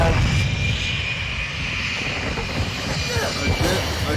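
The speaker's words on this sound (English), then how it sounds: "A jet plane's here." A jet plane roars overhead in the video game Call of Duty MWII during an online match, a loud sustained engine rush filling the whole clip beneath game voice announcements and player talk.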